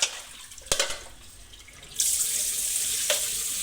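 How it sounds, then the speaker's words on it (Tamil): Chicken rinsed in water for biryani: a couple of sharp splashes and clatters, then a steady stream of running tap water pouring into a basin, close and fairly loud. "மறுபடியும் அதுக்குள்ளே போட்டு மறுபடியும் ஒரு தடவை கழுவுறாங்க."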